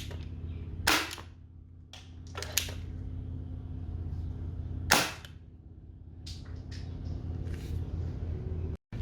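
Semi-metal toy revolver firing, with a few sharp snapping shots spaced a few seconds apart over a steady low mechanical hum.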